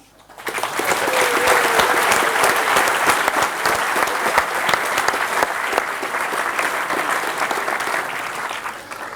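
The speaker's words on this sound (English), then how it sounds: "please give a big applause for Jan" A big round of audience applause for Jan Koum, WhatsApp founder, at a campus lecture, swelling quickly from quiet into loud, sustained clapping from a large crowd that continues to the end.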